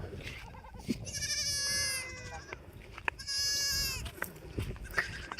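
Goats grazing on a river char by the Teesta bleat in two drawn-out, wavering calls, fairly close, with soft ambient noise and faint voices between them.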